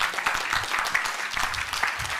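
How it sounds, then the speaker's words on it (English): Audience applause at an estate agent conference fills the room with a steady, dense patter of many hands clapping. It sounds moderately loud and close and continues without pause. "I think it deserves a round of applause"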